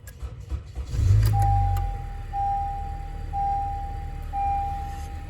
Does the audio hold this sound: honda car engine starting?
yes